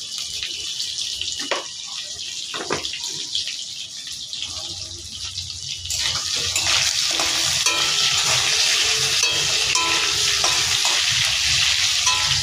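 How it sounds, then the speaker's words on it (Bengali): Potato pieces frying with salt in a pan for keema khichuri, a steady broadband sizzle that grows louder and denser halfway through, with a few clinks and stirring knocks early on. "ততক্ষণ আলুটা ভাজা হোক"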